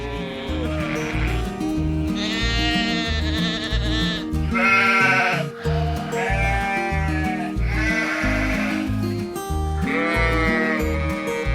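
Lambs and sheep bleat again and again, loud and close, long wavering cries overlapping one another with no pause, over a steady low background drone.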